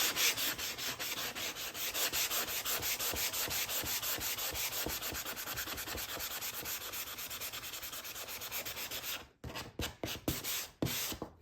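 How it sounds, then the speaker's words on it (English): Rhythmic scratchy rubbing of sandpaper on painted wood, brisk steady back-and-forth strokes close up, then a brief pause and a few shorter strokes. "So watch the pressure that you're applying with your sanding."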